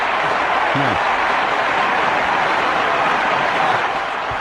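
A movie audience in a Staten Island theater claps and cheers, a loud, continuous wash of crowd noise with a few voices standing out briefly.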